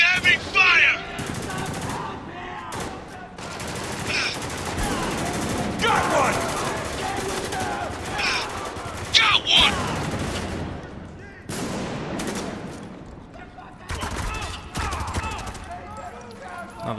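In the video game Spec Ops: The Line, heavy gunfire rattles in sustained bursts of rapid automatic shots with a few breaks between volleys, loud and close.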